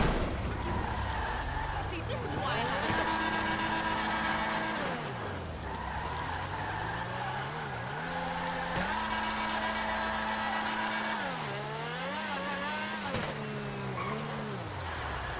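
In GTA V a car drives continuously with a rising and falling engine whine as it shifts and accelerates, mixed with tire noise, while someone talks over the game audio throughout.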